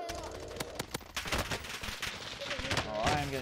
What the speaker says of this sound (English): I am getting shot from up top of the building